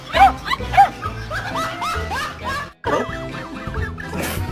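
Two dogs whimper and cry in high, wavering whines that come in repeated bursts close by, with short yips and a brief pause midway.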